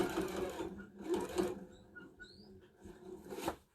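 A home sewing machine stitching a fabric surgical mask with a 1/4 inch seam, a quiet rapid mechanical whir that runs in short bursts with brief pauses between.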